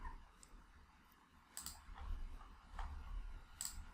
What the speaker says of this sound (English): click apply.